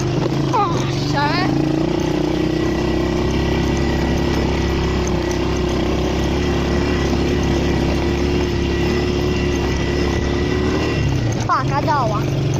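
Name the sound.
ATV engine driving off-road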